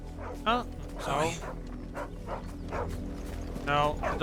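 A dog in the video game Final Fantasy XVI yips and barks in short bursts, with whimpering tones between them, mixed with game voices and background sound.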